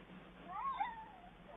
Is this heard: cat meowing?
yes